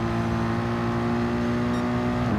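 A race car in Gran Turismo, racing the Dragon Trail circuit in an endurance event, holds a loud, steady, high-pitched engine whine at sustained revs with no talk over it.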